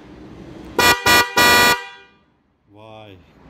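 Seger aftermarket car horn tested before fitting to a car, three loud close blasts, the last held longer, followed by a person speaking.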